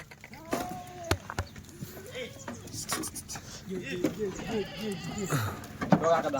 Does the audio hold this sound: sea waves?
no